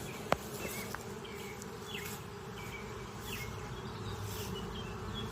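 Honey bees hum in a continuous, soft buzz around an open hive during an outdoor inspection, with individual bees passing close now and then.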